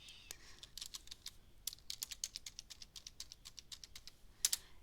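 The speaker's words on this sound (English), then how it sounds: "I will be typing it in my keyboard" A run of quick, irregular keystrokes on a computer keyboard as a password is entered, crisp and close, with a louder double tap near the end.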